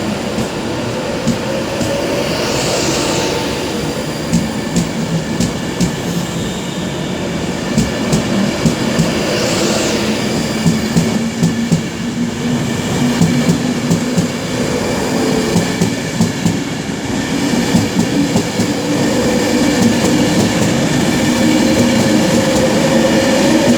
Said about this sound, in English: I believe it'll be a Network Rail HST.